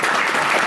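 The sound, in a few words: audience applause for a dancer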